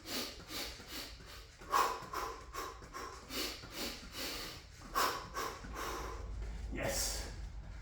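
Heavy, rhythmic breathing after a leg workout in a garage, with sharp exhales and snorting breaths repeating about every half second, loud and close, with a brief spoken word.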